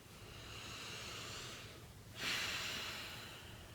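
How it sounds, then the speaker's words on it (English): A single person takes a big, slow, deep breath: a long soft inhale swelling over two seconds, a brief pause, then a stronger airy exhale that fades, close and quiet. "Big deep breath"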